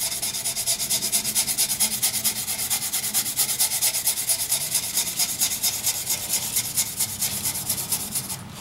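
Hand sanding a natural edge banyan wood vase with 220 grit sandpaper, a steady rhythmic rasping rub repeated in quick strokes throughout, close and fairly loud with no talking.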